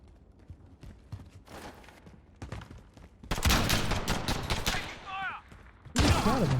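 Gunfire in the video game Modern Warfare 2019: scattered shots give way to dense rapid bursts and fusillades, loud and close, broken by short pauses, with players talking over the fighting.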